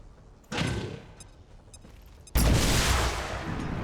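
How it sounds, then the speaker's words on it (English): A grenade is thrown and explodes in the video game XCOM 2. A first muffled thump is followed about two seconds later by a louder, broad blast that rolls on with debris-like rumble. "Grenade out!"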